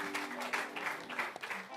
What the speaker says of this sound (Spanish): un aplauso fuerte, fuerte